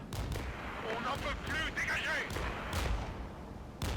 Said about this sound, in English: Oh, we're being counter-batteried by rocket artillery, I think.